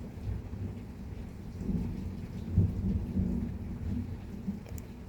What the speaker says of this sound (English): Do you hear thunder?